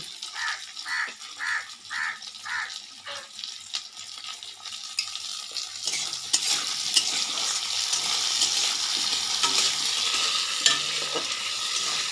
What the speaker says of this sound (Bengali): আলুটাও 2 মিনিট ভেজে নিলাম।